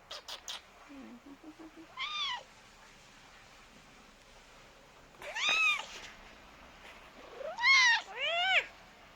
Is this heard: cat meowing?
yes